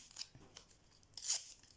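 A strip of adhesive tape is torn off at a cross-stitch frame, giving a faint short rip and then a brighter, louder tearing burst near the end, with no talking.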